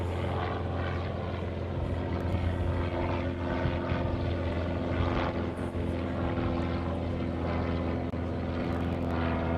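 A plane flying over Honolulu airport, a loud, steady engine drone with a strong low hum that holds evenly throughout, no voices.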